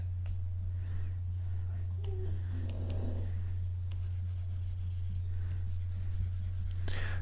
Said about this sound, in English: Oops, I'm drawing on the wrong layer now.